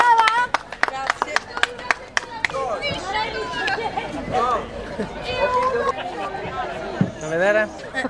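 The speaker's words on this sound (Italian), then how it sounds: "Un applauso." At an Oktoberfest event in Siderno, a few scattered hand claps ring out near the start, then a crowd chatters and people talk over the fading applause.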